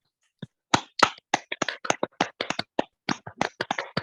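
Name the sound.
audience clapping after a poetry reading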